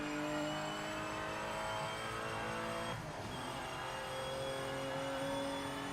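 A Porsche race car engine in the Project Motor Racing game, a steady sustained drone with a brief dip and swell around the middle, loud and continuous with no talk.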